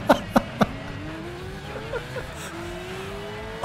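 A race car in the video game Gran Turismo 6, floored so the engine climbs in pitch through the gears, after a few sharp opening knocks, loud and alone with no talking.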